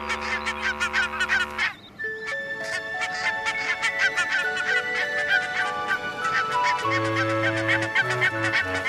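Parent geese honk and call loudly and continuously to scare off a fox below, with dense overlapping honks across the whole stretch and a brief lull near the start.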